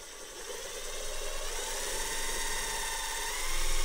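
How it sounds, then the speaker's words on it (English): A drill boring a pilot hole through van body metal, a steady, high-pitched whine running continuously, growing slightly louder toward the end, with no talking. "we're just going to drill a pilot hole through the metal"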